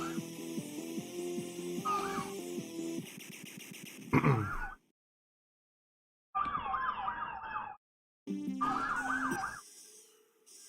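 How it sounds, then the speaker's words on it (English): Emergency sirens wail outside, their rising and falling tones cutting in and out against electronic shoot-'em-up game music, with brief silent gaps between bursts. "there's like sirens and shit going off out here"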